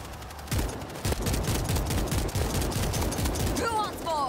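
Heavy, continuous gunfire in World War Z horde mode, rapid automatic shots pounding close and loud through the whole stretch, with chaotic game sounds and some voices in the mix.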